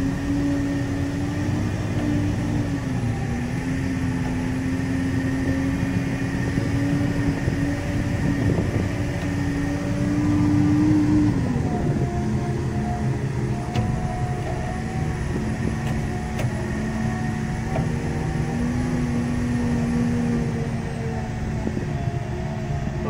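A Komatsu dumper truck drives in sixth gear, its diesel engine holding a steady, loud, continuous drone with a slight dip in pitch midway and a low rumbling hum throughout, no voices.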